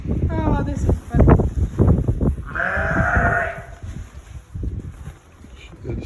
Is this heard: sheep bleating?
yes